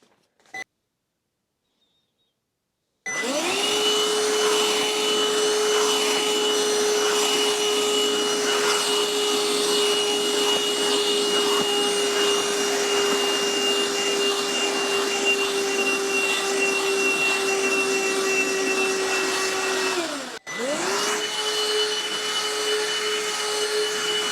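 Bissell Pet Hair Eraser vacuum fitted with an upholstery nozzle, cleaning a seat and couch: a loud, steady whine runs continuously for about seventeen seconds, briefly cuts off, then restarts and keeps running.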